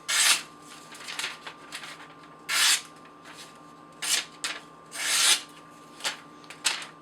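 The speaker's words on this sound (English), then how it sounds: "2 swipes on a ceramic rod." A 440C steel Ganzo 710 folding knife is touched up on a ceramic rod, giving several short, crisp metallic swipes spaced apart, close and fairly quiet, each a quick rasping stroke.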